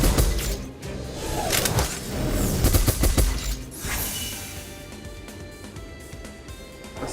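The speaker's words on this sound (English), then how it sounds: "I was seeing how loud that the gunshots were getting as compared to my voice" Video game gunfire crackles in loud rapid bursts, sustained volleys close up that thin out and fade into background game ambience after a few seconds, with no talking.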